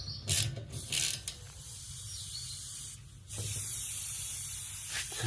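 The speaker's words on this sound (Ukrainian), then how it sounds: "Шипить. Це я так розумію, означає, що його закачено повітрям під тиском" Pressurized air escapes with a faint hiss when the plugs are removed from a VW e-Golf 24 kWh air-conditioning radiator, with a few short louder bursts at the start, then a steady soft hiss and occasional clicks of handling.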